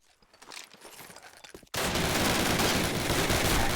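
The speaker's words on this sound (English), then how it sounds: "This is not the time to misspray bullets," Call of Duty: United Offensive gunfire in a competitive match: scattered shots at first, then a sudden loud, continuous, dense burst of rapid automatic fire that runs to the end.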